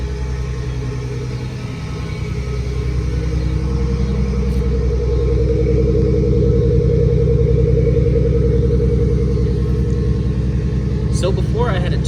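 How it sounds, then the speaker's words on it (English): A car engine with a straight three-inch exhaust and HKS muffler idles with a deep, steady rumble, then rises into a fuller, louder drone as it revs. The sound stays close and constant. "when I would blip the throttle, it would like sputter for a second and then it would rev up, but now it's like, feels pretty consistent"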